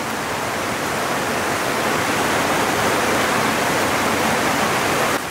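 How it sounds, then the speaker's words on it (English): Heavy tropical downpour in Palawan, Philippines, a dense, even roar of rain pouring steadily and close for the whole stretch, with no voices. "Man, it's pouring."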